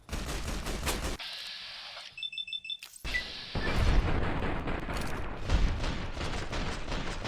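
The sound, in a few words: gunfire from video game Fallout: New Vegas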